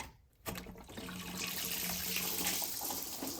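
Coolant from disconnected radiator and intercooler hoses on a BMW 328i with an N20 engine pours out in a steady, continuous splashing stream that starts abruptly after a brief quiet moment and runs on alone.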